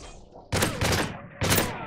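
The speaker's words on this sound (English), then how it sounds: "I shoot them in the knees, you shoot them while they're down." Sentries are gunned down in MW3's Resistance survival mode, with two sharp, close gunfire bursts about a second apart cutting in after a brief quieter stretch.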